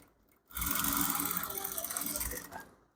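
A sewing machine stitching trouser fabric for a palazzo trouser, running in one loud, close, continuous mechanical whir of rapid needle strokes for about two seconds before stopping.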